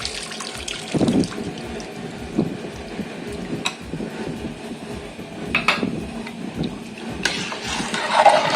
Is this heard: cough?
no